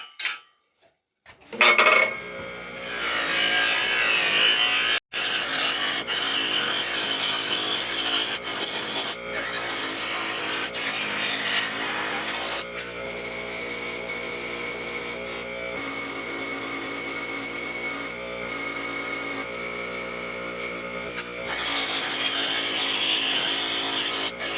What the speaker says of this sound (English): I'm going to take it over to my bench grinder with a wire wheel on it and wire wheel them nice and clean